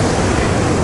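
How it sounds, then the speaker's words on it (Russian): Rough sea surf surges in a brief burst of loud, steady roaring wash at a seaside lookout in Alanya, Turkey, with some wind noise. "А море, правда, разбушевалось сегодня."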